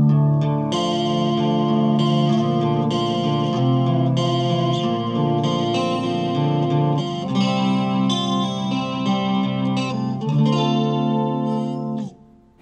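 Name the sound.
electric guitar played on neck pickup alone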